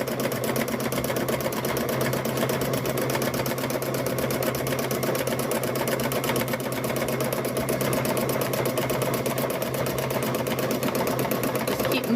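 A sewing machine stitches steadily during free-motion quilting as fabric is moved freely under the needle. A close, even, rapid needle clatter over a constant motor hum runs unbroken throughout.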